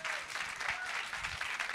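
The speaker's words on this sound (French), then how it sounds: "applaudissements" A live audience at a French stage event applauds as two guests are called up to join the host, a dense, continuous burst of clapping that fills the whole short stretch.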